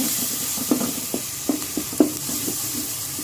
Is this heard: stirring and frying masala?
yes